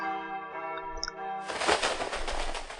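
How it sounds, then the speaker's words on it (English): Church bells ring, first sustained ringing tones, then a dense, rolling peal of many overlapping strikes, loud and close. "The rolling sound of bells."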